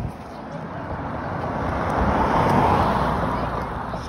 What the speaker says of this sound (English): It's another car.